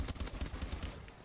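Rapid bursts of gunfire from the Ohm, a heavy weapon in Call of Duty: Advanced Warfare, rattling in a quick repeating rhythm at moderate level before trailing off.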